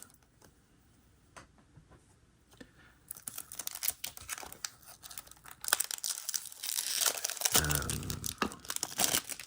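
Crinkling plastic and paper packaging of a diecast Tomica toy car is cut and torn open, building from faint rustles into louder, close crackling and tearing bursts.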